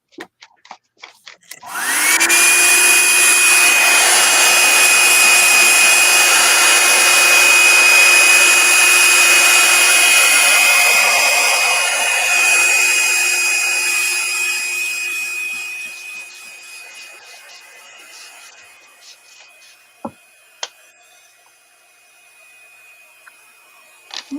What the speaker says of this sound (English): It's got a cool setting on my hair dryer.